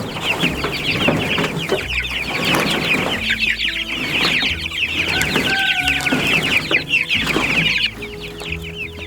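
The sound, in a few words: Cornish cross chickens clucking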